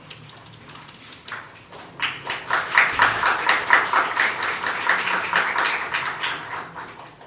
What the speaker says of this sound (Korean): 청년들이 자발적으로 박수 치는 건 처음 봤습니다